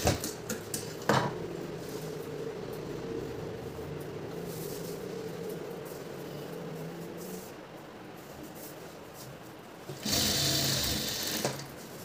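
Domestic sewing machine stitching the shoulder seam of a blouse, a steady close mechanical whirr running almost continuously, briefly easing off before a louder burst near the end.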